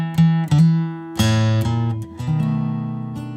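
A blues guitar lick leaning on the flatted fifth: several plucked and bent notes with ringing low strings, played up close and alone in a loose phrase lasting a few seconds.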